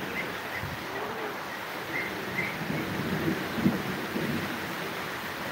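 Heavy rain falling in Kasba, Brahmanbaria, a steady wash of rain with low rumbling thunder swelling underneath and a few faint bird calls, continuous and fairly near, without speech.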